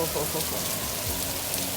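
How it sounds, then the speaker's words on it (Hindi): Heavy rain pours down in a dense, continuous hiss of drops striking surfaces, loud and close, with a voice talking faintly underneath. "अब देखें इतनी बारिश हो रही है, आप देख सकते हैं"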